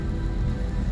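Rain patters steadily on a car moving through overcast, wet streets, a dense continuous wash of drops with a low road rumble beneath and no voices.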